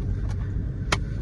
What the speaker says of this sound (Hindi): यहाँ से बहुत ट्रैफिक मिलने वाला है, अभी बहुत ज़्यादा ट्रैफिक मिलने वाला है क्योंकि ये है ऑफिस टाइमिंग